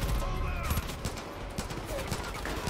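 Dense gunfire from a Far Cry 5 firefight crackles in continuous rapid bursts, loud and close, sustained for the whole stretch with no pauses.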